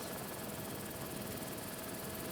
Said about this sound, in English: the helicopter pilot, after reloading his bucket, is again returning back to the area where there's some what we call heat